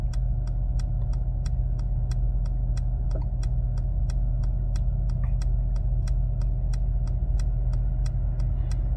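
Hydraulic lift of a Mercedes-Benz flatbed tow truck raising a Mercedes-Benz S-Class car, a steady low motor hum with a regular clicking tick repeating throughout, continuous and fairly close.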